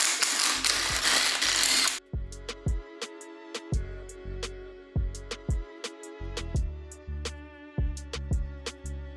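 Ratchet wrench clicking in repeated short bursts while undoing gear bolts on a VW 2.0 TDI CJAA diesel engine during a teardown, sharp metallic pawl ticks close up after a brief burst of broadband noise.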